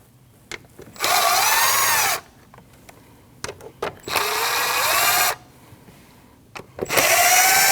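A power tool spins out the four 8mm bolts on the air cleaner box of a 2013–2019 Ford Escape 1.5L, giving three loud whirring runs of about a second each, separated by small clicks and handling noises.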